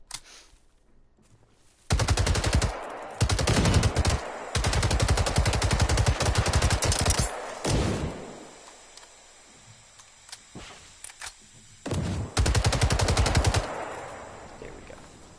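Automatic gunfire in the video game Generation Zero, loud rapid bursts of several seconds each separated by quieter gaps with faint ambient game sound, alone without talk.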